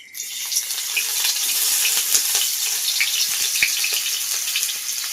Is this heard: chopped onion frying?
yes